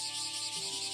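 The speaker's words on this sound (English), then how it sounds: "It'd be even better if the cicadas would just keep it down a little." Cicadas drone in a dense, shimmering summer chorus, a steady pulsing buzz that fills the background without any talk.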